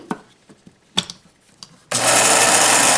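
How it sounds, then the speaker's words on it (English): A stainless KitchenAid grinder attachment starts up and grinds dehydrated vegetables with a loud, steady whirring roar for the last second, after a few faint clicks and handling knocks. "I love my KitchenAid grinder because this is stainless and it comes out and you can wash it."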